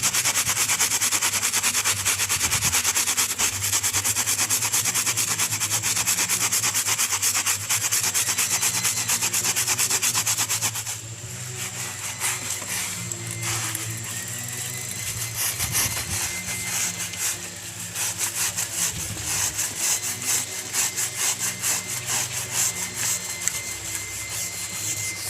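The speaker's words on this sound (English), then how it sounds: "You have to scrub the tire very hard," Hard, steady scrubbing of a bicycle tire to clear off dirt, a dense rasping rub that runs continuously up close, easing slightly partway through but never stopping.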